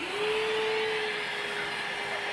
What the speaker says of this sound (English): Just blow out the chips, once again capturing them with the vacuum